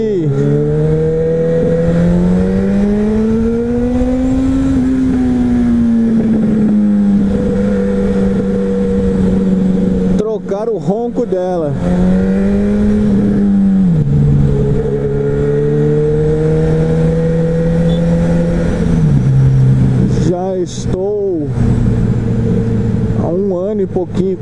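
A Honda CB1000 motorcycle engine rumbles loudly through its exhaust, holding a steady low drone with a couple of pitch rises and drops as it revs, continuous throughout.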